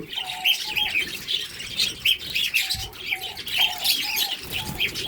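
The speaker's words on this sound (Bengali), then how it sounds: "একটা একটা করে আমি পাখিগুলো ধরে খাঁচার ভিতরে রাখছি" Budgerigars at a breeding farm chirp and tweet continuously in bright, busy bursts while being caught one by one and put into a cage, with repeated short calls close by.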